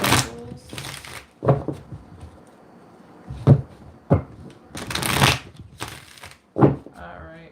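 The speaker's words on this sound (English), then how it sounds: "Just a couple shuffles." Tarot cards shuffled in a few quick riffle bursts, crisp papery flutters separated by pauses, close and fairly loud with no talking over them.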